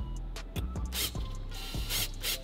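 A ratchet tightens Torx 20 bolts on a mounting cage inside an Audi Q5 dashboard, making a close series of quick clicking strokes in irregular bursts with no talking.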